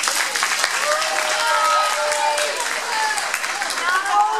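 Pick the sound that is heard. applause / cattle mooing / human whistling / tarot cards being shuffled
applause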